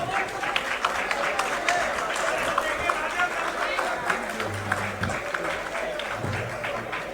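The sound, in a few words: applause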